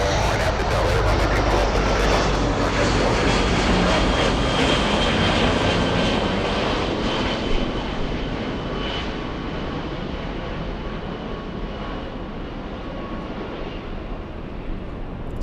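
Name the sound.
Boeing 757 jet aircraft at LAX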